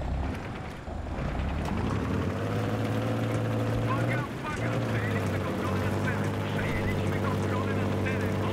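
A helicopter flying in the video game Battlefield 3, a continuous loud droning engine and rotor hum with a steady low tone that dips briefly, heard under people talking.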